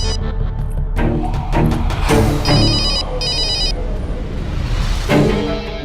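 A telephone rings loudly in repeated bursts of bright, warbling tones, with short gaps between them and no one speaking.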